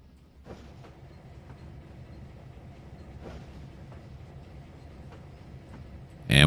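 A massive train rolls along in Trainz 2019, a low steady rumble with rhythmic clicks and knocks from the wagons, moderately quiet until a sharp loud burst at the very end.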